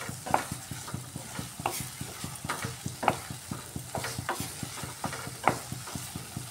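A spice paste fries in oil in a pan, sizzling steadily while a spatula stirs it in a quick regular rhythm of scrapes, with several sharper clinks standing out.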